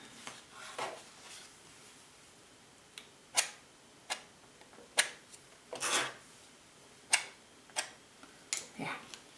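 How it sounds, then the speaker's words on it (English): A tool scraping small shapes out of a wet watercolor sunset painting on paper, heard as a series of short, sharp, close scratches spaced unevenly, each one brief and crisp. "And then here I'm just going to scrape out a few little shapes like that."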